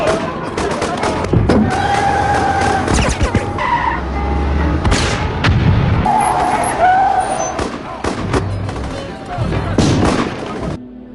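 Gunfire during an action film ambush, sharp shots and cracks mixed with vehicle noise and dramatic background sound, with a voice talking over the action throughout.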